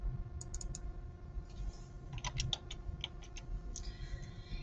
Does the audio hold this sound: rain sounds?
no